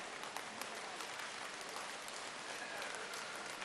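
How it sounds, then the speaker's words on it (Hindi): A large audience at a foundation-stone ceremony for health centres in Panna applauds the Chief Minister with steady, dense clapping that fills the whole moment without a break. "हम सब अपने स्थान पर खड़े होकर और तालियां बजाकर माननीय मुख्यमंत्री जी का अभिनंदन करें"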